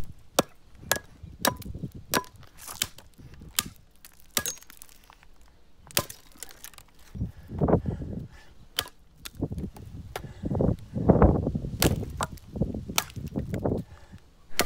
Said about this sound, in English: I pretty quickly abandoned that part of the test and just went straight into throwing the axe